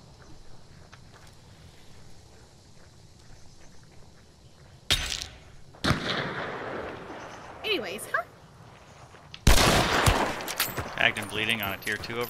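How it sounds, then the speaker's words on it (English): Gunfire in the game Hunt: Showdown: several sharp, loud shots crack out at irregular intervals over a quiet ambient bed, with distant-sounding reports and rumbling tails trailing after each burst. "where did that shot come from?"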